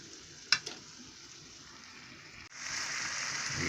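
A bean base fries in a pot, a soft steady sizzle that turns louder and fuller partway through, with a couple of sharp utensil taps early on.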